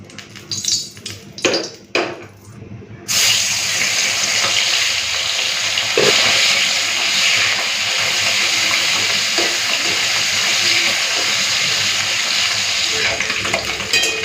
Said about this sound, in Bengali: চলুন মাছটা ভেজে নিই তেলটাও গরম হয়ে গেছে